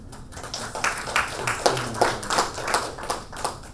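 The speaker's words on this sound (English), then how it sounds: "Another resounding applause for" Audience applause at a World Economic Forum 2016 parallel session in a conference hall, a moderate steady patter of clapping with irregular louder bursts, heard fairly near and without speech.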